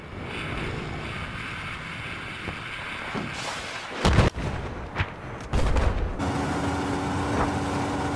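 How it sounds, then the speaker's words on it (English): Battlefield 4 combat with wind and engine rumble under distant gunfire, then a few heavy close bangs and a loud explosive burst before a steady rushing noise returns. "I'm getting shot at."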